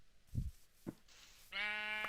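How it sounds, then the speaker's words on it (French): Sheep in the Minecraft video game: two soft dull thumps, then a single loud, wavering bleat that holds for over half a second, clean and close with no talk. "Pourquoi il y a autant de moutons et zéro poulet, quoi?"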